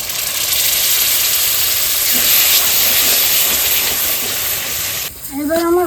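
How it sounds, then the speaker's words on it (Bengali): Liquid and yogurt hit a hot pan of elephant foot yam kofta curry, releasing a loud, continuous steamy hiss for several seconds before it dies away and a brief tonal sound follows. "এবার বাটি ধোয়া জলটা দিয়ে দিচ্ছি এবার আমি দইটা দিয়ে দিচ্ছি"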